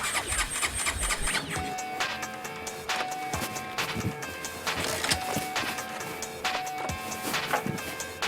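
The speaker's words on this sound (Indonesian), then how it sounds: "Motor lo kenapa kok ditendang-tendang kayak gitu?" A motorcycle being kick-started, with repeated mechanical kicks and a sputtering engine catching and running loudly and close throughout.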